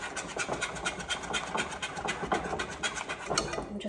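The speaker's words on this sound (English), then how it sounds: "I'm just trying to whisk it together so all those lumps are out" A whisk beats through pumpkin spice coffee cake batter in a bowl, making quick, rhythmic scraping strokes that repeat steadily and close up for a few seconds.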